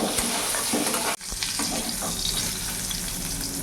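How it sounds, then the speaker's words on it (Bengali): Pointed gourd frying in a little oil with salt and turmeric, a steady close sizzle broken once by a brief stir, then crackling on evenly. "পটলটা আবার একটু ভাজা ভাজা করে দেবো"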